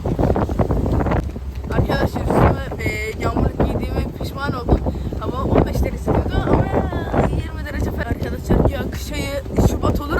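Strong, cold March wind buffets the microphone on the Bosphorus shore near the Aşiyan Museum, a rough continuous roar under someone talking almost throughout.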